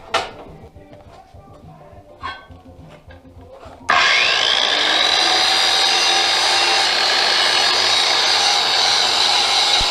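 A worn saw cuts wood. A few scattered knocks and handling noises come first, then a loud continuous cutting sound starts abruptly and runs steadily to the end.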